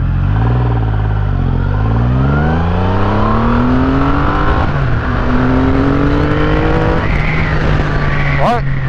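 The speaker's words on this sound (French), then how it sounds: "Maintenant, je passe sur le mode de sport. On est reparti pour un test d'accélération." A car switched to sport mode accelerates hard. Its engine pitch climbs loudly and closely through several gears, dropping briefly at each shift before rising again.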